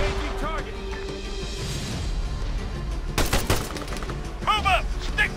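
Bursts of automatic rifle and machine-gun fire in the ARMA 3 military shooter, a sustained rattling volley followed by sharp louder shots, with distant battlefield noise and short metallic whistles around it.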